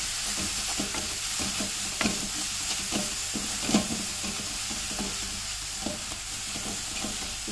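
Onions sautéing in a pan with a steady close sizzle, punctuated by repeated spoon scrapes and taps as they are stirred, moderately loud and without talking.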